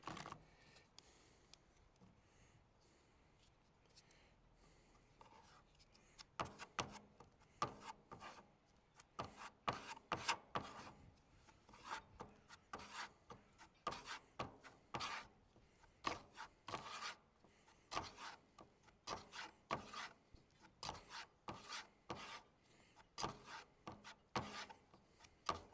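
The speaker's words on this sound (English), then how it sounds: "Just keep mixing it until you think it's done." Resin and hardener are stirred together by hand, giving a quiet, steady run of scraping and rubbing strokes that grow busier after a short, calmer start, with no talking.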